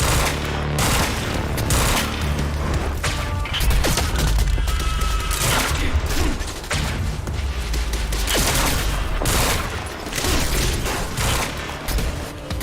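Burst pistol fire in the video game Quantum Break: loud, rapid clusters of gunshots repeat throughout amid booms and mechanical clatter, with no talking.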